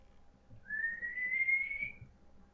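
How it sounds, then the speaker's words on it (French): A single clear whistle, a steady rising tone held for over a second, over quiet background murmur. "s'arrêta net quand il entendit un sifflement"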